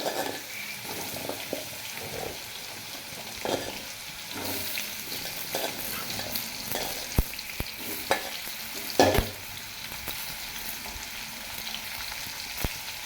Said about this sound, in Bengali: আমি ওই কড়ার তেলেতে এই আলুগুলো এবার মাখিয়ে নেবো, ভেজে নেবো ভালো করে।